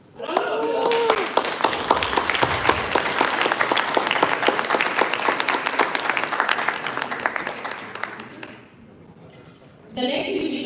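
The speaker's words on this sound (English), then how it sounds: "Round of applause." Sustained audience applause fills a conference hall at an association's annual general assembly, dense and steady for about nine seconds before fading, then a voice speaks over a renewed burst at the end.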